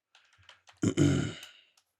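Light, scattered clicks of typing on a computer keyboard, soft and close, followed by a louder, longer muffled burst of noise before fading out.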